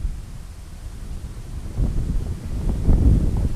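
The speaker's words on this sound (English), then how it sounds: "a big wind gust came here just to fuck with me" Outdoor wind gusts buffet the microphone during plein air pastel painting, a low rumbling roar that builds and surges louder in the second half, with no talking.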